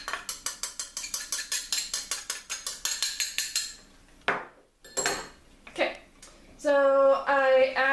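A utensil stirs cornstarch into vanilla pudding in a pot, giving a quick series of rhythmic clinking strokes against the metal. A brief pause follows, then scraping and a tonal clatter of kitchen sounds.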